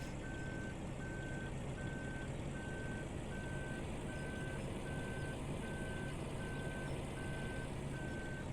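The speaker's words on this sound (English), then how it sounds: "Back on up this trailer and see how much we get." In Farming Simulator 17, a truck backs up a trailer, its reversing alarm beeping in a steady, evenly spaced series over a constant low engine rumble.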